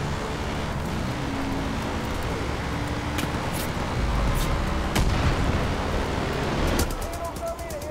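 Gunfire and blasts in the video game Far Cry 5 crackle through a busy, loud mix of engine and action noise, with sharp bursts near the middle and end under excited talk.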